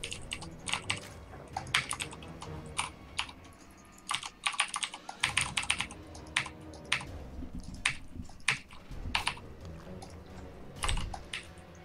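Rapid clicking of a computer keyboard during a StarCraft 2 coaching session, with uneven bursts and brief pauses between runs of keystrokes, close and fairly loud with no voices.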